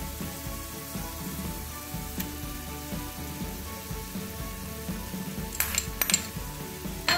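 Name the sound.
tomatoes and paneer added and cooked in pan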